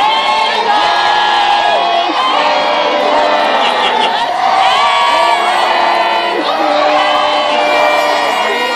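Graduating high school class of 2013 cheering and shouting in a loud, sustained crowd roar at a graduation ceremony, with whoops and swelling waves of voices throughout.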